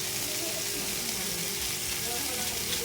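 Dried anchovies (dilis) fry in a pan with a steady, dense sizzle that stays close and constant throughout, and no break in the hiss.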